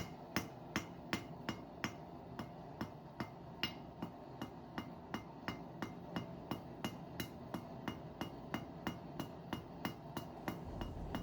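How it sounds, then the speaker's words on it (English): A steady series of crisp metallic hammer taps on bronze while forging a brooch, evenly spaced at a quick rhythm, close and fairly quiet, with no voices. "Lot of taps. Tap, tap, tap it in, Happy."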